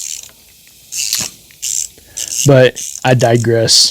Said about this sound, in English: I don't know why it sounds like a ratchet strap